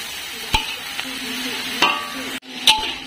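Vegetables being stir-fried in a pan for a school lunch menu, with a few sharp utensil clanks against the pan over a steady soft sizzle; no talking.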